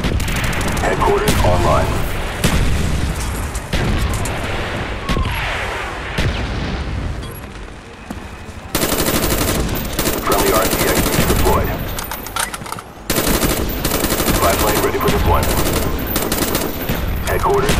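Mortar strike in Call of Duty Black Ops multiplayer: loud bursts of gunfire and booming explosions crash in repeated waves, with rapid machine-gun fire between the impacts and a brief radio-style voice announcement over the battle.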